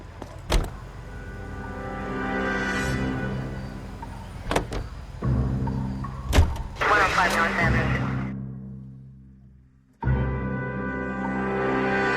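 Car engine hum in the video game L.A. Noire, a steady mechanical drone with sharp door-like clunks and a brief whirring burst, cutting out near the end before resuming; a voice speaks briefly.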